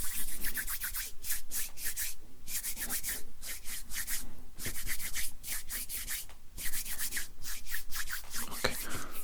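Hands rubbing a product together before working it into hair, a close, soft, continuous swishing and rubbing with brief pauses, quiet and intimate.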